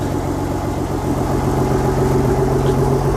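A car engine idling steadily while it warms up, close and fairly loud, a constant low rumble with a smooth, even hum and no revving.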